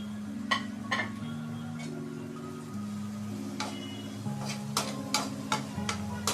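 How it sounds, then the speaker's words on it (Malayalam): Onion, green chilli and capsicum stirred in a pan for crispy dry Gobi Manchurian, with a soft steady sizzle, spoon scrapes and clinks over a low sustained tonal hum. "ഇച്ചിരി ക്രിസ്പി ആയിട്ടിരിക്കുന്ന രീതിയിൽ വഴറ്റി കൊടുക്കാം"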